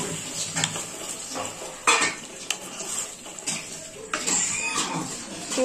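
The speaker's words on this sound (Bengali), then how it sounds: "এবার আমি দিয়ে দেবো জল।" Water poured into a pan of fried spice paste while cooking a Katla fish curry (kalia), heard as a steady splashing rush mixed with clinks of a metal utensil against the pan, with no talking.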